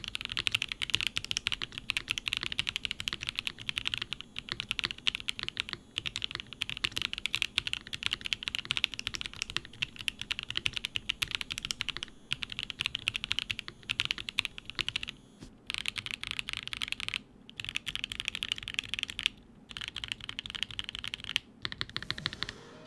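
Typing on a budget custom mechanical keyboard kit with a clacky sound, a fast, steady stream of crisp close key clacks with brief pauses, no talking.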